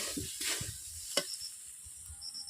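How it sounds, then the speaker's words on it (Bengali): Chili powder and spices sautéing in a pan for crab curry, heard as a soft, quiet sizzle with a few scraping stir strokes and one sharp utensil tap. "লঙ্কা গুঁড়ো, এইভাবে আমি 5 মিনিট কষিয়ে নেব।"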